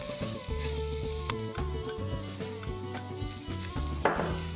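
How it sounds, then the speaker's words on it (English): Rice stirred with onions in a pan over a low flame for South Indian coconut rice, a continuous gentle sizzle broken by repeated scraping strokes and one sharper clatter near the end, with a steady tonal background throughout. "Just mix it in with the onions on a low flame."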